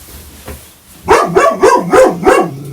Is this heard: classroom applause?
no